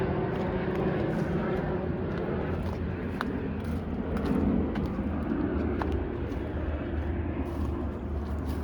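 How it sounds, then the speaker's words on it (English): A steady, distant roar of an Air Canada passenger airplane passing overhead along Toronto's Humber River trail, broad and continuous, with faint outdoor ticks and rustles. "that's an Air Canada plane with the leaf on the belly"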